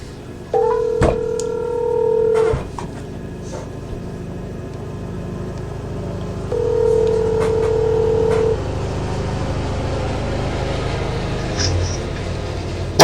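Telephone dialing tones as a call is placed for a live fishing tournament broadcast, two sustained tone bursts separated by a quiet gap, with faint clicks and background noise.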